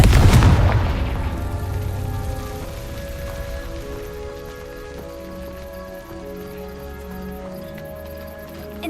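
A Confringo spell in Hogwarts Legacy sets off a heavy booming explosion at the start that rumbles and fades over several seconds into a lingering musical game ambience.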